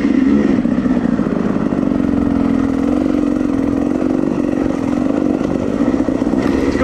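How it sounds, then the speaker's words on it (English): A dirt bike engine on a trail with a broken throttle bogs down, giving a loud, rough, low chugging drone that holds steady and close throughout with no talk. "a little brakes to fight the engine. Bogs it down."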